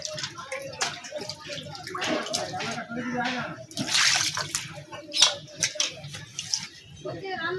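Fish being washed under running water, splashing and trickling in bursts with handling noises, while a person talks intermittently nearby.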